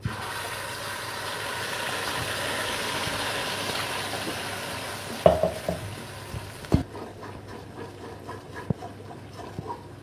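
Whole cinnamon, star anise, bay leaf and cardamom dropped into hot oil give a quiet, steady sizzle, broken by a few sharp clinks and taps as they go in and are stirred.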